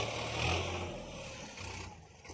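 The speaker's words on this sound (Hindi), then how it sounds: "अपना हो गया ट्रैक्टर रवाना" A tractor engine hums and revs as it pulls away from a farm field at night, its drone fading slightly as it moves off.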